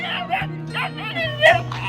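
A puppy on a farmyard with sheep and chickens gives short yips and whimpering barks in a few bursts, close by, mixed with people talking.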